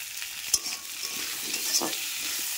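Potatoes fry in a pan while a spatula stirs them, giving a steady broadband sizzle with a couple of sharp scraping knocks, close by and with no talk.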